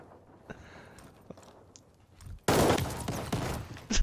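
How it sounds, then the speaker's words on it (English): Gunfire in the Call of Duty Vanguard video game bursts out as a loud, dense rapid volley after a quieter stretch of faint clicks and scattered shots, sustained and close. "I was gonna shoot you on the end."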